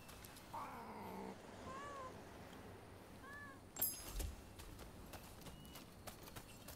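A cat in Rise of the Ronin meows a few times, short rising cries fairly close over quiet game ambience, followed by a sharp clatter.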